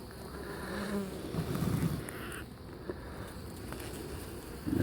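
Honeybees hum inside an open hive among capped brood cells, a continuous close buzzing with faint rustling and no voices.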